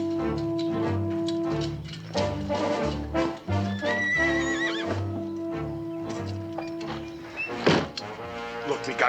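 A horse whinnies loudly at close range, a rising-and-falling neigh over a sung or musical background with hoof clops and a thump, in an old Spanish-colonial adventure setting.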